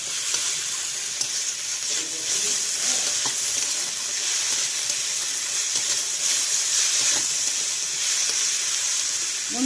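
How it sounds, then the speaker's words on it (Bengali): Jalpai (olive fruit) sautéing in a pan gives a continuous loud sizzle and hiss. Occasional stirring scrapes and clinks rise above it. "ভালো করে আমি কষিয়ে নেব"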